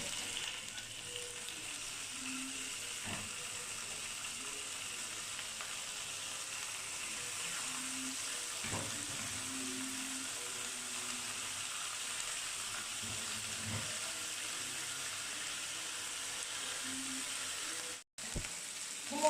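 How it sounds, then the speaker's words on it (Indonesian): Prawns grilling on a margarine-greased grill for Balinese Jimbaran-style grilled shrimp, a faint, steady sizzle and hiss running throughout with a few soft clicks and a brief cutout near the end, no voices. "Kemudian kita panggang udang-udangnya."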